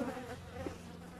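Honey bees hum around an open beehive as the keeper works it, a close, steady insect drone that fills the short moment on its own.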